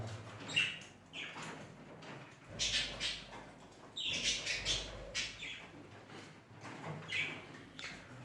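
Budgerigars in a cage feeding on homemade food of carrot and beetroot give soft, scattered chirps and rustles, quiet and close with pauses between bursts.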